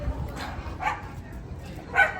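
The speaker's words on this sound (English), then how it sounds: "The Grinch's dog's not happy." A small dog outdoors in Vancouver at Christmas gives several short, sharp barks and yips at a moderate distance, spaced irregularly, the last one loudest, over low background murmur.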